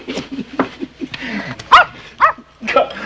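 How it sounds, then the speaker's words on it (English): A dog barks and yips in an old 1975 television film soundtrack, sharp barks rising between bits of talk and other background sound. "Call off your dog, Bossy."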